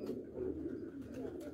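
Sialkoti pigeons, a rare old breeder stock, coo in low, steady, overlapping murmurs close by, a continuous soft throaty bubbling with no talk.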